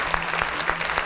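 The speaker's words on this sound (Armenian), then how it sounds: "ջան, եկեք բարձր ծափ արենք" Brief burst of audience applause at a televised singing competition gala concert, many hands clapping at close range for about a second.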